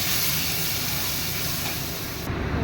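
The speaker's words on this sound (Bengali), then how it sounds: "যে মশলাটা দেওয়া হলো ওটা পেস্ট করে এখন মশলাটা কষানোর জন্য দেওয়া হচ্ছে।" A spice paste for potato paneer dum fries in a pan, giving a loud, steady, close sizzling hiss that eases slightly near the end.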